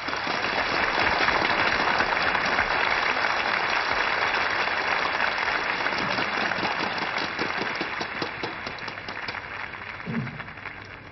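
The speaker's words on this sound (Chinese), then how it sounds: "我们掌声有请" A stage audience at a singing competition final applauds to welcome a singer, a broad, even roar of clapping that runs steadily and fades slightly toward the end.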